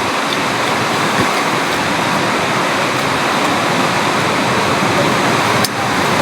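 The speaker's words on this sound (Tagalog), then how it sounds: "Kita niyo yung hampas ng alon" Strong ocean waves crash onshore in rough weather, forming a loud, continuous roaring wash of surf that fills the whole scene with barely any change.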